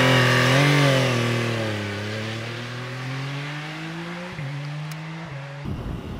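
A powerful Italian motorcycle engine revs up and rumbles, its pitch sweeping through several rises and drops before cutting off abruptly near the end.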